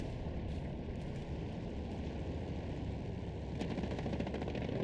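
Continuous battlefield din of gunfire and explosions in the Hell Let Loose competitive match, a dense, loud wash of rumbling blasts with rapid crackling bursts toward the end, no voices.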